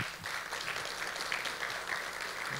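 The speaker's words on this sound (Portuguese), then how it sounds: "Você pode dar um aplauso a Ele?" Applause from a church congregation at a business-themed worship gathering, a steady dense patter of clapping held at an even level throughout.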